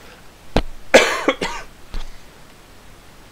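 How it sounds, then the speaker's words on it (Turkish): A person coughing several times in a quick irregular burst, close and fairly loud, with short harsh bursts and no talk over them. "umarım öksürüğüm çok sıkıntı olmaz çünkü bugün deli gibi öksürüyordum"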